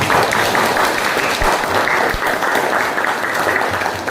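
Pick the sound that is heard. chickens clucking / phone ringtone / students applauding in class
students applauding in class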